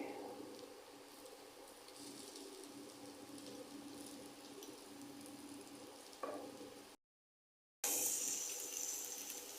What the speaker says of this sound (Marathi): आता मी ह्याच्यात चिकनचे तुकडे परतून घेतले आहे